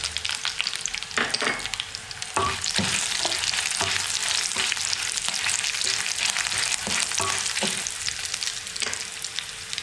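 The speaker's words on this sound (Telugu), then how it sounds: "ఇగో మిరగాయలు వేసుకుందాం. ఈ మిరగాయలు వేసుకున్నామంటే ఈ మెంతులు కూడా కొంచెం వేసుకుంటే రుచిగా ఉంటుంది." Green chillies and fenugreek seeds fry in a pan with a steady, loud sizzle throughout, broken by repeated scraping stir strokes, with no talking.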